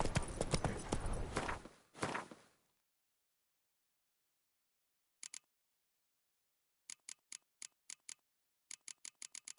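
Roach, the horse in The Witcher 3, trots in bursts of sharp, clicking hoof beats. They follow a stretch of louder mixed game noise, then silence, then clusters of quick steps toward the end.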